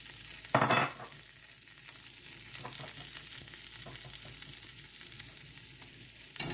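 Garlic stir-fried in butter oil in a hot pan, a sharp burst of sizzle as it hits the fat, then a steady close crackle with light stirring scrapes.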